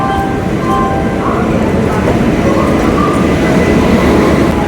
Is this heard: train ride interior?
yes